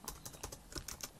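A computer keyboard clicks under fast typing, about a dozen light, quick keystrokes in a short burst, close and quiet with no voice over them.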